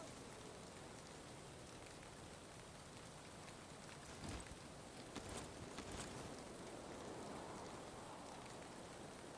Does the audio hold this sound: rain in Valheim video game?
yes